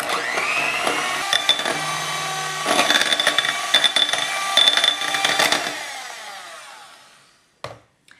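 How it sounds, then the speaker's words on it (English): An electric mixer beats egg whites with sugar toward stiff peaks for a German chocolate cake, whirring loudly and steadily with rattling against the bowl, then winding down and stopping with a final clatter. "I'm just going to add a quarter cup of sugar and beat this until it gets stiff"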